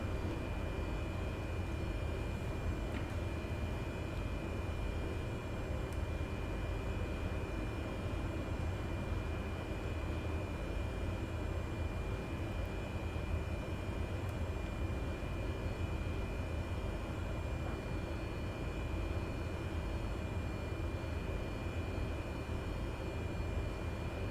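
Light aircraft engine at low idle in Microsoft Flight Simulator 2020, parked in the Austrian Tyrol mountains, a steady even drone that holds unchanged throughout with no voices.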